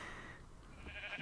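Sheep bleating in the Minecraft video game, a short, quiet, wavering bleat or two standing alone over a faint background, with no talking.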